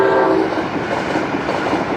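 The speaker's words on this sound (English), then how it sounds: "And a train actually comes through here." A train passes along a rail line beside an old World War II training site, its loud, steady rumble and rail noise filling the whole stretch, with a brief horn-like tone at the start.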